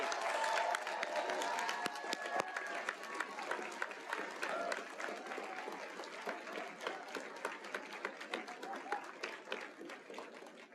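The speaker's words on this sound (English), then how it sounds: "Please do give another round of applause for all of our master's degree recipients." At a Georgetown College 2022 commencement ceremony, the crowd gives a round of applause for master's degree graduates; a fairly faint, sustained patter of many hands with occasional louder claps and some voices mixed in.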